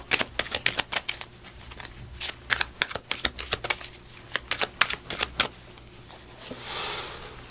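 Oracle cards being shuffled close by, a quick series of crisp riffling bursts and slaps in an irregular rhythm, clear and alone without talk.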